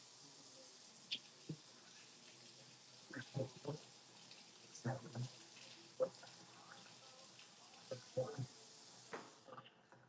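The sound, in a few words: tap water running while rinsing tofu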